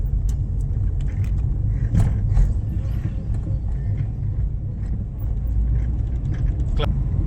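Car driving on narrow lanes during a driving lesson, with a steady low engine and road rumble throughout while people talk inside the car.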